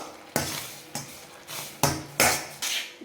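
A spoon stirs mashed sweet potato into payasam in a metal pot, making six distinct scraping knocks against the pot at an even pace, loud and close, with no voices.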